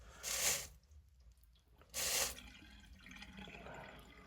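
Two short bursts of splashing water, as rinse water is poured out of a bucket after melting sterling silver into shot and spatters, separated by a quiet pause with faint trickling afterward.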